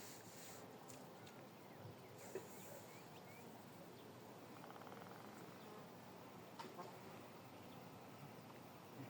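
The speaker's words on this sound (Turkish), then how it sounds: "Şu an maşallah vızır vızır çalışıyorlar." A quiet, steady hum of many honeybees buzzing together at a hive, continuous and low-level with no voices.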